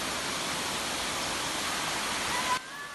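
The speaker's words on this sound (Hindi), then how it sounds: "इस बाग के बीचों बीच में से जबरवान की पहाड़ियों से निकले झरने का पानी बहता है और बीच में पानी के फव्वारे भी लगे हुए हैं" Water from a mountain spring runs steadily through a Mughal garden in Srinagar past fountains, a dense even rush lasting almost three seconds before cutting off abruptly.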